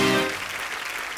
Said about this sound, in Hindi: जोरदार तालियां हो जाए रवीना के लिए।